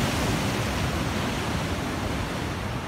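Sea waves washing onto a beach in Barcelona, a steady broadband rush of surf that stays loud and continuous throughout with no pauses, like close-up breaking water mixed with some wind.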